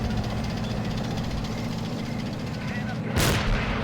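Mortar fire rumbles in the World War II strategy game Assault Squad 2 under a constant low roar of battle and engines, then a sharp, loud blast lands near the end.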